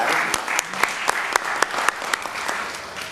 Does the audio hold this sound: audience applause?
yes